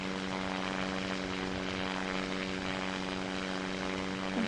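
A seaplane in the VR game Simple Planes drones steadily in flight, a continuous buzzing propeller-engine tone with a stable pitch and no talk, holding at an even moderate level throughout.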